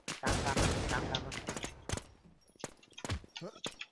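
Rapid bursts of gunfire from a shooting video game, loud crackling volleys early then scattered single shots, while players talk excitedly over the action.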